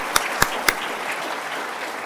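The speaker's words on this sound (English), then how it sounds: "A round of applause for our sponsors," Three distinct, sharp claps ring out in a mayoral debate audience, followed by a softer spread of scattered applause that stays even and moderate to the end.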